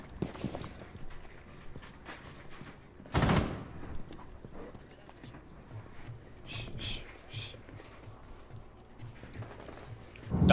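Gunfire in Rainbow Six Siege, with a loud sharp burst early on, several scattered shots and a short cluster of cracks later, over quieter footsteps and game noise.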